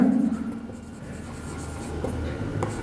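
Chalk or marker scratches steadily across a classroom board in short strokes, close and clear, during a maths lesson.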